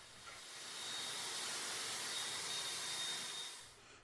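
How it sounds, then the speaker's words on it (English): Dyson Airwrap hot air styler blowing a broad steady airy whoosh with hiss, swelling up as it starts and easing off toward the end, moderately loud and alone. "It's definitely not quiet, but it's also not really loud either. It's kind of comparable to a hairdryer."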